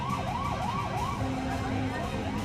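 Police and ambulance sirens wailing in repeated rising and falling sweeps as emergency vehicles rush toward a bombed church in Sri Lanka, over steady traffic noise and a second steady tone.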